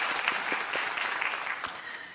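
A church congregation at an evening revival service claps in a sustained round of applause, moderately loud with scattered sharper individual claps standing out.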